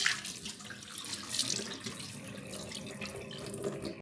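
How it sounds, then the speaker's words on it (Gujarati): Water runs steadily from a tap while flattened rice is rinsed beneath it, with splashing and trickling throughout and no talking. "તો પૌવાને સાફ પાણીથી ધોઈ નાખીએ."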